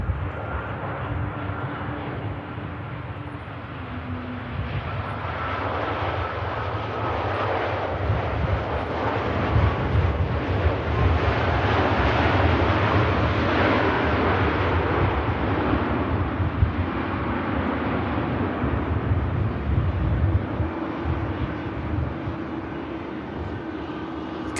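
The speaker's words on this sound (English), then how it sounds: "Here is the stunning Saudi Dreamliner in from Jeddah." A Saudi Boeing 787 Dreamliner arriving from Jeddah lands at Manchester Airport, a steady loud jet roar that swells and then eases over about twenty-five seconds, with wind buffeting on the microphone.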